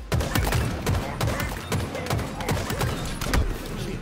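Rapid gunfire from a Halo Infinite match cracks out in quick bursts, sharp shots stacking close and loud over an ongoing game backdrop, with no voices.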